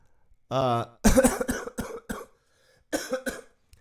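A man coughs several times during a spoken sermon on biblical prophecy: a rough hacking burst followed by a few sharper coughs and throat-clearing sounds, close up in a quiet room.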